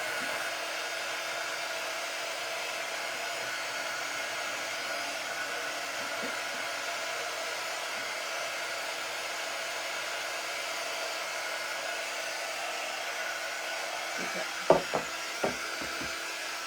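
A hair dryer blows steadily up close to dry paint on a wooden bow sign, a continuous whooshing hum that runs alone, with a few brief knocks near the end.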